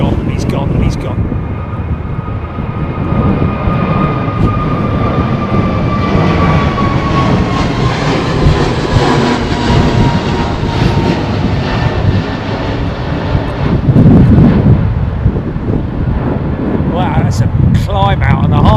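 Airliner aborting its landing at Heathrow Airport in the storm winds of Storm Nelson, a loud, continuous engine roar with heavy wind buffeting and rumble throughout, and voices talking over it.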